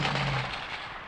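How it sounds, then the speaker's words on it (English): A single gunshot goes off in the survival horror video game Silent Hill 2, a loud, sharp blast at the start that quickly decays into a low ringing tail, with no talking. "He takes a lot of shots."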